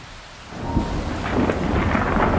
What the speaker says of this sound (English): Wait, is that thunder? Those are definitely storm clouds coming our way.